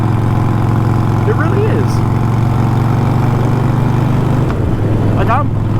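A Harley-Davidson motorcycle rides slowly with a steady, low, rumbling engine drone. A rider's voice briefly speaks over the engine.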